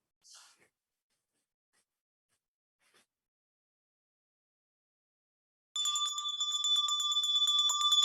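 A Salvation Army bell ringer's handbell rings continuously and brightly, entering suddenly after near silence and holding a sustained metallic chime to the end.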